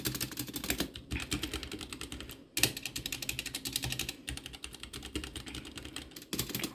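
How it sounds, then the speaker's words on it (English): Typing on a Warmier K66 mechanical keyboard, bursts of rapid clacky keystrokes separated by brief pauses, close and moderately quiet, with no voices. "my keyboard that I have is the Warmier K66"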